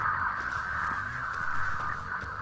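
Cawing crow-like calls in the video game Dead by Daylight repeat over a steady, droning background hum, the cries faint and spaced irregularly.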